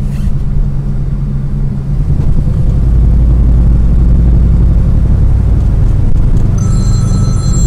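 Steady low road rumble and engine drone inside a car driving with the windows rolled up, continuous and moderately loud throughout, with a brief electronic phone ringtone chiming near the end.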